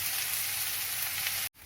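Onions sizzle and fry steadily in a pan as a dish of Mexican enchiladas is prepared, a dense continuous crackle close by that cuts out abruptly near the end.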